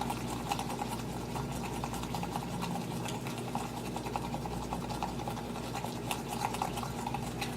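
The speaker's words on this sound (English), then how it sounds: "You're just going to start stirring, and whipping, stirring, until you, almost like you're making like an icing." A spoon briskly whips sugar with espresso for Cuban coffee, giving a steady, quiet scraping and clinking rhythm against the cup with no talking.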